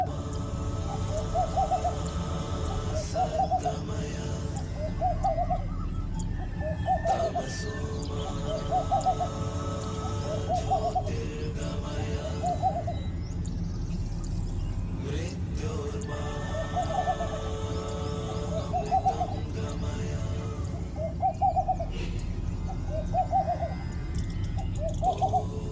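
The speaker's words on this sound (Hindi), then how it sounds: "साथ में ये पक्षियों की मधुर आवाज़ें भी सुनते रहें।" Birds call in the background while an owl hoots again and again in soft, evenly spaced calls over a steady outdoor hiss.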